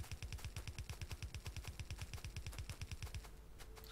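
Rapid automated gun turret fire in the video game Factorio, a fast, even stream of sharp bursts at close range that thins out near the end, with no talk over it.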